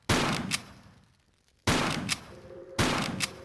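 Three loud gunshots ring out in Tomb Raider III Remastered, a weapon firing foam nerf-style bullets, each sharp crack followed by a decaying echo and spaced roughly a second apart, with no voices.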